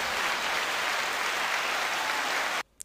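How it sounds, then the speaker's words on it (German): A crowd applauds loudly and steadily for a couple of seconds, a dense wash of clapping that stops abruptly. "das hat dann einen fetten Applaus verdient."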